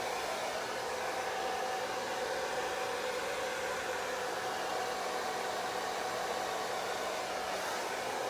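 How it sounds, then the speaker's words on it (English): A handheld hair dryer blow drying natural hair runs continuously at steady volume, a close, even whooshing roar with no pauses or talk. "I don't know if I'm going to blow dry the whole hair through fully."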